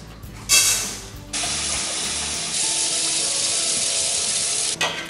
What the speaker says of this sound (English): Wash the rice.